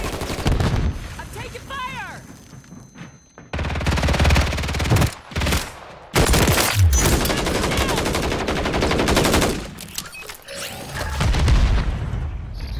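Bursts of rapid gunfire in Call of Duty MW3 duos crack and boom in loud, dense volleys separated by brief gaps, with a player talking over the shooting.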